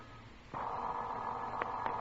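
Telephone ringing in an old radio drama, a steady sustained tone starting partway in, with a couple of brief clicks over a faint background hiss.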